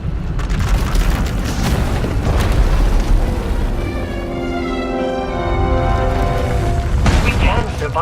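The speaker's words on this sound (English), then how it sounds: "When it erupts, the entire asylum will be destroyed." A massive eruption explosion tears through an asylum in SWTOR: Knights of the Eternal Throne, a loud sustained rumbling boom with roaring low-end debris that swells, eases and surges again over several seconds, with no talking.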